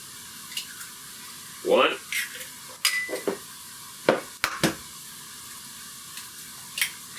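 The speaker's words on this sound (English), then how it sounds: "I'm gonna crack those eggs in there." Eggs are cracked into a dish for a cheesy salami pasta bake: a few sharp, separate cracks and taps against the rim, with light kitchen handling between them and a brief spoken word early on.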